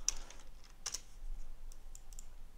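A handful of soft, separate keystrokes tapped on a computer keyboard, quiet and close, with gaps of near silence between the short bursts.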